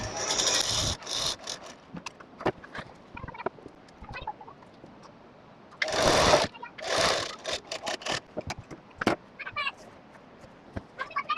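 A sewing machine stitches a zipper onto a bridal lehenga in short, faint bursts of whirring and clicking, separated by pauses and small handling noises.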